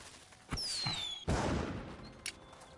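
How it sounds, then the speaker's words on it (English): Fireworks burst in the video game Portal Knights: whistling rockets streak upward, then loud crackling explosions follow with a smaller pop after, all without talk. "Oh, that's some bright fireworks."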